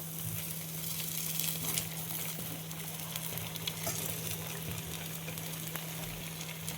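Sabudana vada, crisp tapioca-pearl fritters, deep-frying in hot oil with a steady, dense sizzle and crackle that holds evenly throughout, close up, with no talking and a faint low hum underneath.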